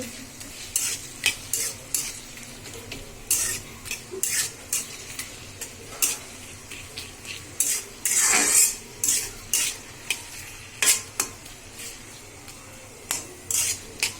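Onions frying in a pan for a beef curry, stirred with a metal utensil: a steady sizzle runs under repeated sharp scraping clinks that come in irregular bursts, close and fairly loud, with no talking.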